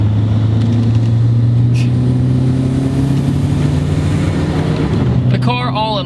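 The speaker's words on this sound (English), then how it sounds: "And with the turbo noise, it makes you smile." A turbocharged 2.0 VW Jetta engine drones loudly and steadily from inside the car, a constant low hum rising slightly in pitch as it accelerates, with a brief voice near the end.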